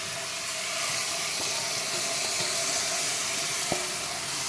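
Chana dal sizzles and fries in a pan, a steady broadband hiss with faint scraping of stirring and one brief sharper clack near the end, no voices.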